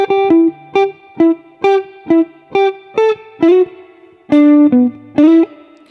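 An electric guitar plays the second section of a riff slowly, as a string of short, clipped chord stabs with a brief pause midway, close and clean with light effects.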